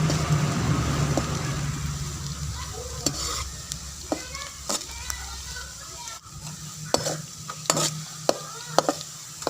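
Onions frying in a pan while being stirred, with a steady sizzle and a scatter of sharp scraping and clinking spoon strokes, close and with no talk.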